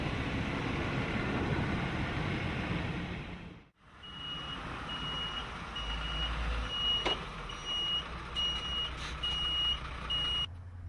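A gas delivery truck parking on site, with its reversing alarm beeping at a steady rhythm over engine rumble after a brief lull, heard from nearby with no talking.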